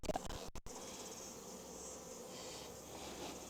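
Honey bees buzzing around a hive frame holding brood and honey, a faint, continuous droning hum from the busy colony heard close by, with a few brief handling bumps at the start.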